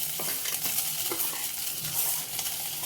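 Roasted poppy seeds being stirred in a dry pan, a brief close scratchy rustle with light scraping of the utensil and a faint sizzle.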